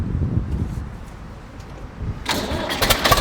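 An HMT 3511 tractor engine starts outdoors, a low rumbling turnover giving way to a louder, brighter engine roar that holds steady through the end.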